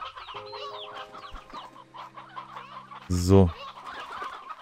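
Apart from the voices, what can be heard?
rock chickens clucking in video game Slime Rancher 2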